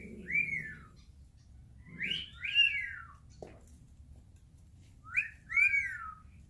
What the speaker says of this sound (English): These are probably the cutest birds, honestly. The cockatiels.